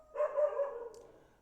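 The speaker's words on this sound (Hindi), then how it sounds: "लेकिन एक दिक्कत है, ये कुत्ते भौंक रहे हैं" A dog barks once or twice nearby, a short yelping burst with a whiny tail, heard alone without talk.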